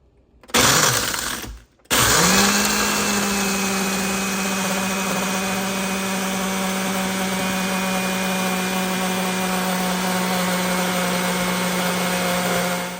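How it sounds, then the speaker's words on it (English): A blender whirs a protein shake for a long, steady stretch after a brief start and stop, loud and close with a constant motor whine and no talk. "I blend it for about 30 seconds on my blender."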